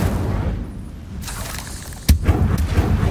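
An Incendio fire spell cast in the video game Hogwarts Legacy, a sudden whooshing burst with a sharp booming impact after a quiet buildup, followed by crackling flame noise.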